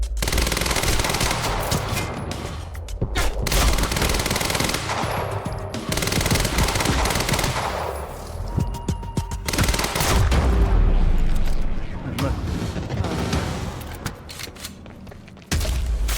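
Video game gunfire in Quantum Break: dense, sustained automatic bursts with booming shots and brief pauses, loud and continuous throughout.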